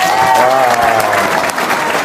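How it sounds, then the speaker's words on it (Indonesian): An audience at an Indonesian sales talk show claps steadily and densely for about two seconds, with faint tonal sounds under the clapping. "Oke, tepuk tangan dong"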